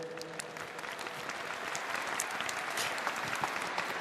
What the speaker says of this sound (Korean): 같이 박수해 주셔야 되지 않겠습니까?